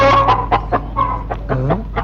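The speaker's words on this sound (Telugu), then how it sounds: "పక్కింటి కోడి మన ఇంటి గోడకి వస్తుందిరా" A chicken clucks in a rapid series of close, loud, throaty clucks and short cackles, with no talking.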